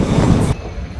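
A passenger train runs between Ahmedabad and Dwarka, heard from on board as a loud, steady rumble and rattle that suddenly drops to a quieter hum partway through.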